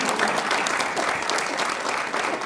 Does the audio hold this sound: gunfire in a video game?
no